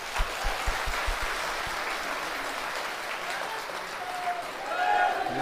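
Audience applause at a live Hanuman devotional darbar gathering, a steady dense wash of clapping from a crowd lasting throughout, swelling slightly louder toward the end.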